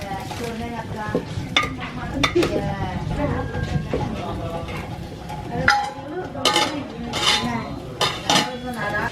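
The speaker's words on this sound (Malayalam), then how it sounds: "ഇപ്പോൾ നമ്മൾ 4 കഷ്ണം ശർക്കര അച്ചി അതിലിട്ട് കൊടുത്തിട്ടുണ്ട്. അതാണ് ഇളക്കിക്കൊണ്ടിരിക്കുന്നത്." A spoon stirs jaggery pieces into a simmering pot of sweet Kerala jackfruit curry, giving repeated metallic scrapes and clinks against the pot over a soft bubbling background, with no talk.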